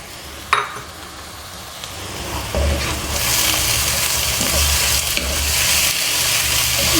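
Sliced medium potatoes cooking over low heat in a pan for an Afghani omelette with egg and tomatoes, a steady, close sizzle that swells after a few seconds, with a faint utensil clink near the start.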